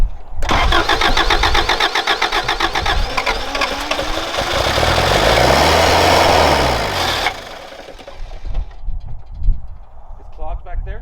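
A 1988 Toyota pickup's 22R engine cranks and catches, then revs and runs loudly for several seconds before settling toward a rough idle, with people talking over and after it.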